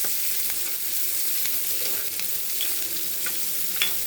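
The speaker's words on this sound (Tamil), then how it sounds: "ஜீரகம் ரெண்டு போட்டுக்கலாம் கருவேப்பிலை போட்டுக்கலாம் போட்டுக்கலாம் நல்லா வதக்கிடலாம்" Cumin seeds and curry leaves sauté in hot oil in a pan, giving a steady close sizzle and crackle with occasional stirring scrapes and pops.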